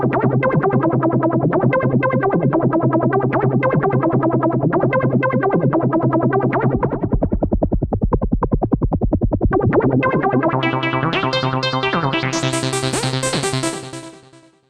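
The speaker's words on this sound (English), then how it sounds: "Listen to how different this sounds just by tweaking the frequency, because of how much of the sound is resonance" GForce Oberheim OB-1 software synthesizer playing a sustained, strongly resonant patch as its filter frequency is swept, the tone shifting from thick low drones to a buzzy pulsing passage and bright fizzy highs before fading out, with no talking.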